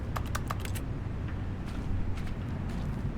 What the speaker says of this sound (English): Why is the rock making keyboard noises?